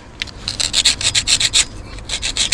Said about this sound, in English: let's scrape it with the knife a little bit